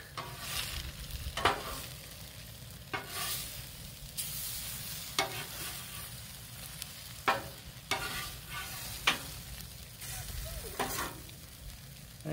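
Tofu pieces in sauce fry on a hot griddle with a steady, close sizzle, broken by several sharp scraping and clattering bursts from a spatula moving them around.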